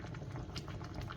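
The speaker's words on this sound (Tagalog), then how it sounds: "dahil kumukulo na siya" Tapioca noodle soup boiling in a pot, a steady close bubbling and simmering with soft pops, fairly quiet.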